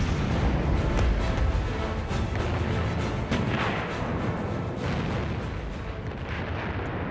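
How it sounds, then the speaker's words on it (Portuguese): Dense, continuous barrage of heavy booming blasts from battleship guns, including the Bismarck's 381 mm guns, loud and chaotic, with repeated thuds blending into a roaring wall of noise. "Bismarck e Hood trocam fogo pesado."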